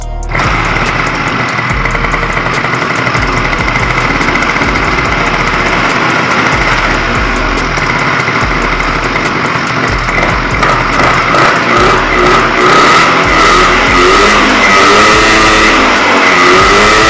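Small motorcycle engine fitted with a Blaster carburetor and a homemade washer intake fires up on its first start, running loud and close with a steady high-pitched buzz and rising revs throughout.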